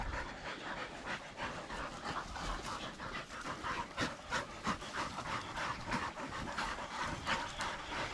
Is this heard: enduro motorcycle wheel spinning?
no